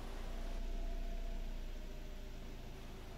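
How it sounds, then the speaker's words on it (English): A Suzuki Swift engine idles just after being started, a steady low hum with faint tonal whine, continuous and fairly quiet, no voices. "Okay, start the car."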